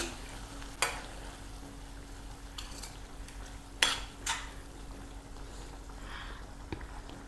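Jaggery is stirred into raw mango curry in a pan, with a low background sizzle and a few sharp spoon clinks and scrapes against the metal, spaced apart and fairly quiet.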